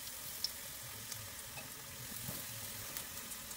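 Breaded chicken pieces fry in hot cooking oil, a soft continuous sizzle with small crackling pops scattered throughout, heard close and fairly quiet with no talking.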